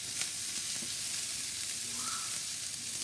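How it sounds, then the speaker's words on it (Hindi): Chopped onions sauté in a hot pan on a home kitchen gas stove, giving a constant, even crackling sizzle close to the microphone, with faint stirring and no talking. "हम लोग अभी इसमें डालेंगे छोटे छोटे कट किए हुए या चॉप किए हुए ओनियन। इसे हम लोग सॉटे करेंगे।"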